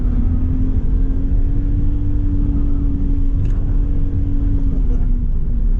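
A car's engine holds a steady drone while it drives through an autocross cone course, loud and close from inside the cabin, with an instructor's voice coaching over it.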